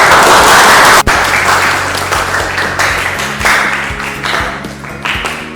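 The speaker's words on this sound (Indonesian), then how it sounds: "tepuk tangan untuk Mas Adit." A room full of people applauds loudly, the clapping fading gradually over several seconds.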